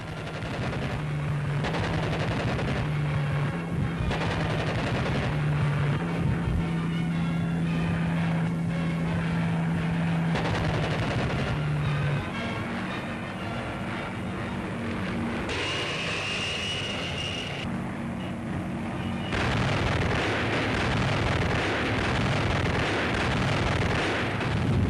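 Wartime newsreel soundtrack of aerial bombing and ground strafing on the Russian front, with droning aircraft engines, rattling machine-gun bursts and heavy artillery booms layered continuously and loudly throughout.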